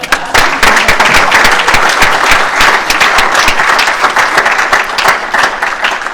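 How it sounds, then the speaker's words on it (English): A debate audience at a Hawaii pesticide debate bursts into loud, sustained applause for a competitor, a thick wall of clapping with sharp individual claps standing out close by. "Let's give him a round of applause."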